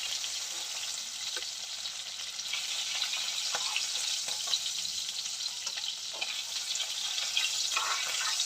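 Prawns frying in a pan, a steady close sizzle of hot oil with scattered crackles and light stirring taps, no talking.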